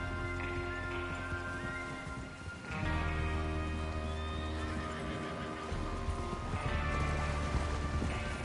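Horses whinny and hooves clatter in a steady gallop over a continuous droning background in Red Dead Redemption 2, with the neighs rising clearly above the rumble.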